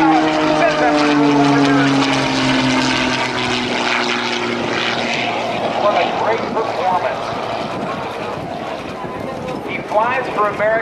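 A propeller-driven Eagle 580 aerobatic airplane performing rolls at a US Navy airshow, its engine droning loud and steady with a falling pitch as it passes, while an announcer talks over it throughout.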